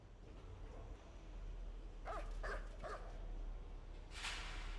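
A dog in the adventure game Still Life barks three times in quick succession, muffled and moderately distant over a low steady hum, followed by a single brighter bark a moment later.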